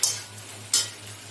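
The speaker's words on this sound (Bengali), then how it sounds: "ঢেঁড়স দিয়ে এটার সঙ্গে একটু মিশিয়ে নেব ভালো করে।" Two quick scraping strokes of a utensil stirring okra in a frying pan, over a low steady hum.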